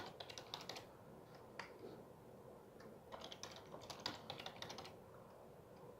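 A computer keyboard is tapped in quick, uneven bursts of light clicks as a wallet password is entered; the keystrokes are close but faint, against a quiet room.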